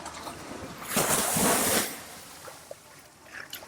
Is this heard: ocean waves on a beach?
yes